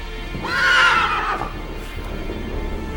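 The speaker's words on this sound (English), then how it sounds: "Hey, horses." A horse gives one loud, close whinny that rises and then trails off over about a second, followed by quieter background noise.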